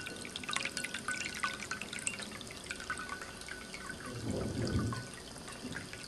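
Water trickles and drips steadily in a handmade ceramic cat drinking fountain, close and soft, with a fuller gurgling splash swelling briefly near the end and no voices.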